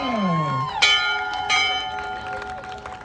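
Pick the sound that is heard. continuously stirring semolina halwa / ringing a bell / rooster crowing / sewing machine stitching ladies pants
ringing a bell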